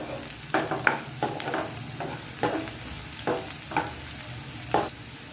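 Green chillies fried in a pan being stirred, a soft steady sizzle broken by several sharp scraping strokes of the spoon at an irregular pace, close and alone without voices.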